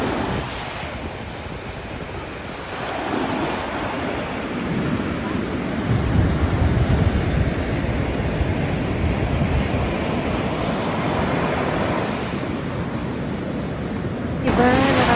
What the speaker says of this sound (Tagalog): pakinggan yung dagat